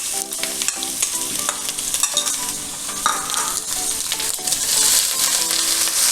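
Ginger, garlic and green chili paste sizzles steadily in a pan while being stirred, with continuous frying crackle and scraping stir strokes throughout, close and fairly loud, no talking.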